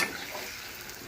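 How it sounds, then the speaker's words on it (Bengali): Fried potato pieces being stirred in a hot pan for potato 65, a steady sizzle and scrape of the spoon continuing without a break, close by and with no talking. "নাড়িয়ে নিচ্ছি"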